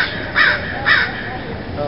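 Two crows caw outdoors in quick succession, moderately loud harsh calls over a steady background hiss, at a place used for stretching exercises.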